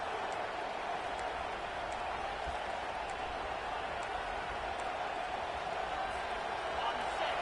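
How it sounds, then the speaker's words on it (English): A large stadium crowd roars continuously, a dense wash of distant cheering that holds steady throughout. "Listen to this crowd just shaking the girders of this place trying to help their defense."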